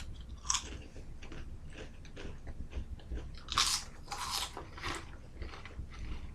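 Someone eating sausage-flavoured Lay's potato chips, with sharp crunchy bites followed by softer chewing, several distinct loud crunches spaced irregularly, close to the mic, no talking.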